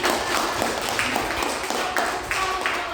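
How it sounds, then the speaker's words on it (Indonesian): A class of students claps hands together in a room, a loose burst of overlapping claps with a few sharper taps standing out, while voices murmur faintly beneath. "Oke, tepuk tangan."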